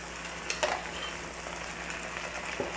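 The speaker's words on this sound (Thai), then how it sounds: "we're gonna add coconut milk Add a little bit at a time" Coconut milk goes a little at a time into a hot pan for a roasted duck red curry, raising a soft, steady frying sizzle with a couple of brief scrapes or splashes.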